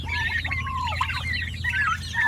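Several turkeys kept in a cage make close, busy clucking and warbling calls that overlap one another over a low steady background hum.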